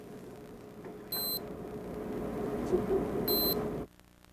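Two short, high electronic beeps from a small digital pet toy, spaced a couple of seconds apart, over a low background hum.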